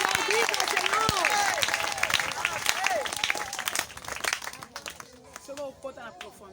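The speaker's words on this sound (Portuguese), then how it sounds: "Será que podemos aplaudir ao Senhor?" Church congregation applause, a dense wash of clapping and crowd noise running under a preacher's loud voice, thinning out toward the end.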